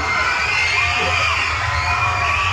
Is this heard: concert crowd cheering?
yes